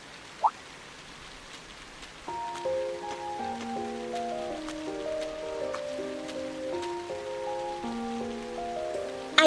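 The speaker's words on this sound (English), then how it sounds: "I do apologize for stopping you on a rainy day like this." Steady rain falls and patters continuously on a surface, a single sharp knock sounds near the start, and a gentle stepped melody of music then plays over the rain.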